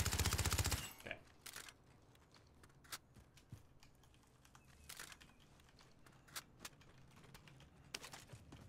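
Gunfire in Call of Duty Warzone: a loud burst at the start, then scattered sharp shots and clicks over faint background noise, with occasional quiet talk.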